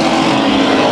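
Race cars battling for the lead into turn three at Bakersfield Speedway, a loud, dense engine roar that fills the whole brief moment.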